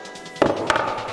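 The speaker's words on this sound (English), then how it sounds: "we'll go ahead and tap in this carriage bolt." Hammer tapping a carriage bolt into a hole in a cornhole board, two sharp close knocks about a quarter second apart over a low steady background hum.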